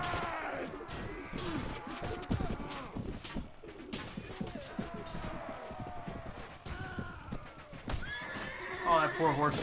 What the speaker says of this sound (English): Oh, that poor horse just got wrecked in front of me.